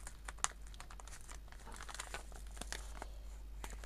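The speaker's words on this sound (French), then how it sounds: "je veux pas casser le beau papier cadeau" Gift wrapping paper crinkles and rustles quietly up close, a run of soft crackles and small tears as the wrapping is carefully peeled open.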